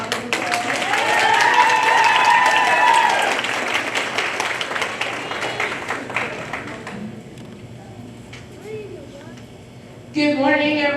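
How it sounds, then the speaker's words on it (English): Audience applause at an end-of-year middle school staff meeting, loud steady clapping from a room of people for about three seconds, fading into room murmur and a few voices, then a short burst of sound near the end. "And so let's give her a round of applause."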